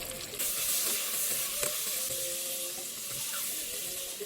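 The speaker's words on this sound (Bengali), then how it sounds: "পেঁয়াজগুলো আমি ঘি দিয়ে ভেজে নেব। চিংড়ি মাছগুলো ভেজে নেব।" Onions and prawns frying in ghee in a pan for prawn biryani, giving a steady close sizzle with faint crackles throughout, and no talking.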